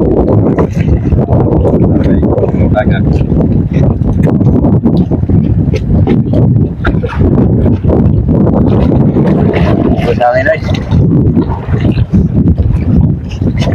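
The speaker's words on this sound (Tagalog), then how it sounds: "Lakas ng hangin." Strong outdoor wind buffets the microphone in loud, continuous low rumbling gusts that run through the whole clip and hold steady at high level.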